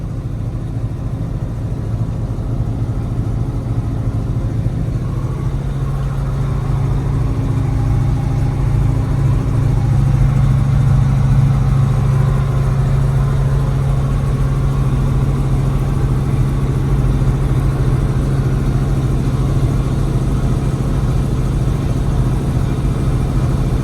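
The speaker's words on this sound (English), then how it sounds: "This is our 4800 Massey Ferguson tractor." A Massey Ferguson 4800 tractor engine drones from inside the cab while harrowing pea stubble, a steady low rumble that swells slightly mid-way, with no talk.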